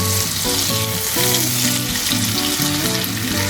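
Half a tandoori chicken frying in butter on a flat tawa gives a loud, steady sizzle with constant crackle and spatter, close up, with no voices over it.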